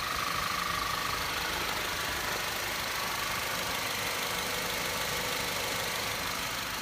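A 2015 Audi A4 2.0T Quattro's 2.0-litre direct-injection engine idles steadily with a soft, even mechanical hum and faint ticking, quiet and continuous without talking.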